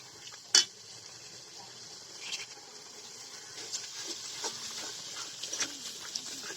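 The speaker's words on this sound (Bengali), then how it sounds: "তেলের মধ্যে ভাজা হচ্ছে।" Taro and shrimp frying in oil with turmeric powder, a soft steady sizzle and crackle with faint scattered pops and a sharp clink of a utensil near the start, fairly quiet throughout.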